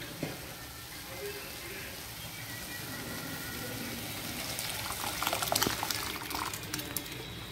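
Lentils (dal) simmer and bubble steadily in a pot, a soft continuous hiss with small pops and gurgles that grow a little busier toward the end.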